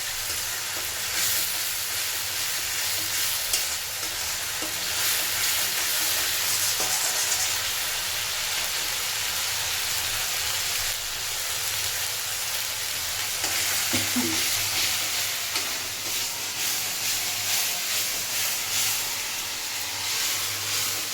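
Green peas fry in a thin wok while being stirred, giving a steady, loud sizzle and hiss with scraping stirs and small clinks, and no talking over it.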